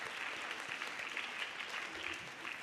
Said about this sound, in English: We'll give a big round of applause to yourself.